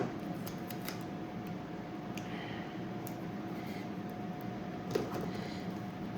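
Scissors trim in a few quick, crisp snips spaced across a quiet room, close and fairly faint over a low steady hum, with no talking.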